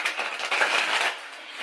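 Tarot cards are shuffled by hand in a quick burst of papery riffling and flapping that fades off after about a second, close by with no talk.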